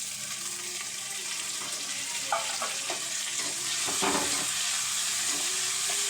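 Vegetables and tomato sizzle steadily as they are sautéed in a pan for an elephant yam curry, with a continuous close frying hiss and a few stirring scrapes in the middle.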